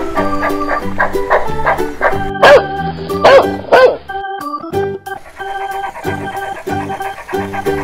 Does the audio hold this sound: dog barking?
yes